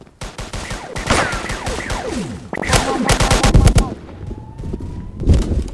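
Rapid bursts of video game gunfire crackle in quick volleys, with some sharp single shots and a brief exclamation from a player in between.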